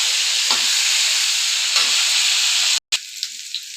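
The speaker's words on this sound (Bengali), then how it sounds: "এবার আলু ফুলকপিটা ভালোভাবে ভেজে নেব" Potato and cauliflower frying in a pan with turmeric and salt: a steady, loud sizzle holds throughout, with two soft scrape or stir sounds, a brief cutoff, then a quieter sizzle with light clicks.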